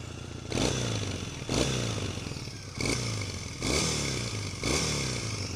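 A 2014 Triumph Bonneville parallel-twin engine runs steadily up close, its loud, even drone rising in several repeated revs with brief dips between pulls.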